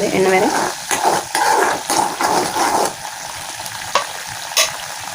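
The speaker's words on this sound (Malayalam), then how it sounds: "അങ്ങനെ പൊട്ടി തെറിക്കുന്നുണ്ട് പൊട്ടി പൊട്ടി തെറിക്കുന്നുണ്ട്" Grated coconut spatters in oil in a pan while making virgin coconut oil, crackling and popping with sharp bursts, busier at first and then thinning to a few scattered pops over a quiet background.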